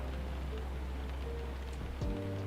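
Rain patters on a car in a driving simulator video game, a soft steady hiss over a low engine hum, followed near the end by a brief low rising mechanical sound.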